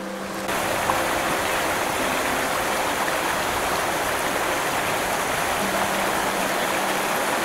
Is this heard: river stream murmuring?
yes